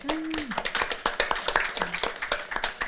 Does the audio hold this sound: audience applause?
yes